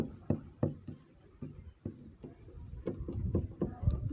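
Chalk or a marker writes on a board during a high-school maths lesson on arithmetic progressions, making close, quiet taps and short scratchy strokes in an uneven rhythm.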